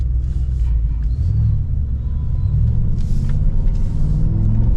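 A Mercedes G63 AMG rolls through Indian city traffic, giving a deep, steady engine rumble inside the cabin with faint distant honks and traffic noise.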